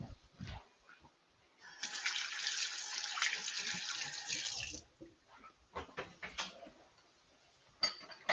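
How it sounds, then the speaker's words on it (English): Tap water runs steadily into a sink for a few seconds while hands are washed, with brief splashes and light clinks of dishes before and after; no talking. "I do need to wash my hands now"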